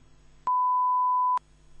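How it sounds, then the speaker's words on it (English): A single steady electronic beep, loud and pure-toned, lasting just under a second, with faint room hiss before and after. "say for or since when you hear the beep"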